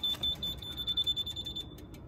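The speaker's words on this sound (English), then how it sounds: "Has got an alarm, as you can hear." The alarm on a 2016 Triumph Tiger Explorer motorcycle sounds outdoors as a high, thin electronic tone chirping in short repeated beeps, moderately quiet over low background rumble.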